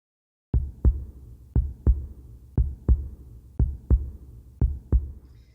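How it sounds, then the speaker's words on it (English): Heartbeat sound in a data sonification of London: deep, thumping double beats in a steady lub-dub rhythm, five pairs repeating evenly after a short silence, clean and prominent with nothing else behind. "the first dimension that we have in the sonification is a heartbeat sound"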